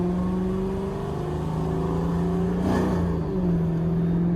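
A tuned, supercharged Mercedes CLS55 AMG roars steadily as it accelerates hard, the pitch holding high with a brief swell partway through.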